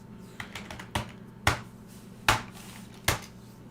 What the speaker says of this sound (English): I'm typing into nothing.